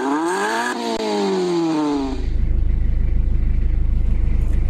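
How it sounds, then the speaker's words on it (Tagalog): A car engine revved up, deep rumbling rise in low engine tone following a stretch of speech-like tonal sound, steady and close. "kapag tuwing ni-rev up mo ang makina"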